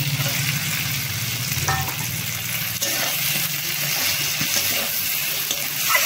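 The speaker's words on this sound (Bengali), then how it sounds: "এবার ভাজা পটলগুলোকে দিয়ে দেবো।" Fried pointed gourd pieces drop into a simmering mustard sauce in a pan, giving a steady sizzle and bubbling throughout with a few soft stirring scrapes.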